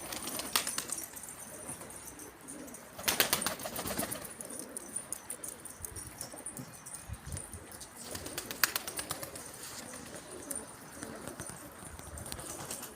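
Pigeons coo softly in a steady murmur while bursts of wing flapping rise twice, outdoors with a faint background hiss and no talking.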